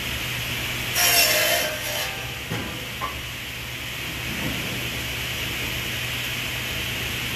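Quarter sawn oak is cut to length in a woodshop, giving a steady, continuous sawing rasp throughout, with a slightly louder burst of cutting near the start and no talk.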